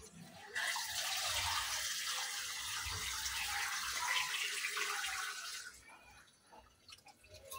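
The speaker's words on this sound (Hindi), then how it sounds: "इसमें पानी भी और डालना है" Water pours steadily into a cooking pot in a continuous, fairly close rush lasting about five seconds, then cuts off, leaving quiet room noise.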